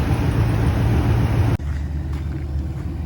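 A Ford Maverick's engine runs at a steady idle, a continuous low rumble with a hiss that drops away abruptly partway through while the rumble carries on.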